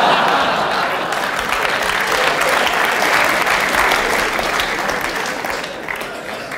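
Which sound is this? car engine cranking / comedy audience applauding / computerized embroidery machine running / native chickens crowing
comedy audience applauding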